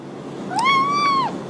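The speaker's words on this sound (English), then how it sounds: "Here's a kitty in the meantime" A single clear meow from a cat, close and fairly loud, rising then holding steady before falling off, over a soft background hiss.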